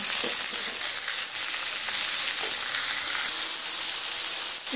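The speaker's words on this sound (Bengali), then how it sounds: "টমেটোটা দিয়ে আবারও আমি পেঁয়াজের সঙ্গে একটু ভেজে নেব" Chopped tomatoes fry with onions and a pinch of salt in a pan for a flat bean bhaji, giving an even, dense, close-up sizzle that crackles on without pause.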